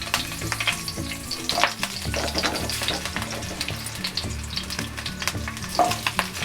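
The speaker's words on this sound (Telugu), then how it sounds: "ఇప్పుడు దీంట్లో కొద్దిగా ఆయిల్ వేసి పచ్చిమిర్చి వేయించుకుందాం." Broken green chillies frying in a little oil in a pan, a loud continuous sizzle with repeated stirring and scraping strokes, close up and without any talking.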